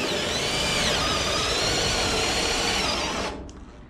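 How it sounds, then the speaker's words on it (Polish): A cordless drill with a weak battery whines steadily while widening a hole, a loud continuous motor buzz with a grinding edge, then spins down and stops near the end. "wiercimy, rozwiercamy teraz jeszcze otwór"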